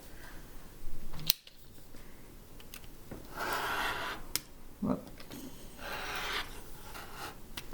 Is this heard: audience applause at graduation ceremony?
no